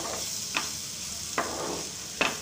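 A cabbage fry with coriander sizzles steadily in a pan while a spatula scrapes through it three times at an even pace, each stir a short, close scrape over the constant frying hiss.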